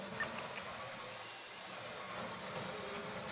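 A steady, continuous whine of a drill running through a bank heist in the GTA NoPixel roleplay game, droning evenly at moderate level with no speech over it.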